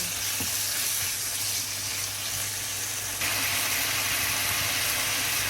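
Beef sizzling loudly on a hot grill for Japanese yaki udon, a dense continuous hiss that swells louder partway through, close up with no talking.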